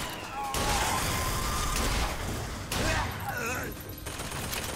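Automatic turret gunfire from BioShock Infinite rattles in dense, broadband bursts over about two seconds, stops briefly, then returns more raggedly, with game voices and other sounds mixed in.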